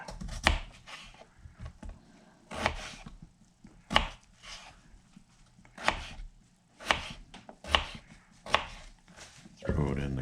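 Knife chopping ingredients for a home-made beef stew on a cutting board, sharp separate thuds coming at an uneven pace, close up with quiet gaps between strokes.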